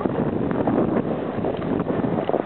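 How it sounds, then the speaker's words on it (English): Wind blowing hard during a blizzard over deep snow, heard as a loud, steady, rushing roar that buffets the microphone continuously, with no voices. "Can you hear the wind?"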